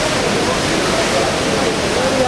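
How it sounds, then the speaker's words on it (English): Water pouring down a waterfall makes a loud, continuous broadband roar that fills the short stretch without a break. "You can get some of the water that's coming down, pouring down."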